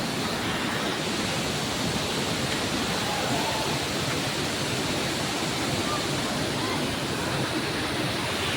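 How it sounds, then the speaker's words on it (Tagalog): Daranak Falls roars with a dense, steady rush of falling water, loud and unbroken throughout, heard from close by at the base of the waterfall. "Yan o, yung falls."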